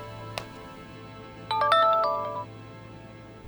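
A short electronic phone ringtone melody plays once for about a second, clear and close, over a low steady background hum, with a faint click before it.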